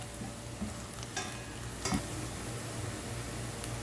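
Ginger, garlic paste and green chilies frying in a pan for yellow split lentil dal, a soft steady sizzle with a few light stirring scrapes and clinks, close and fairly quiet.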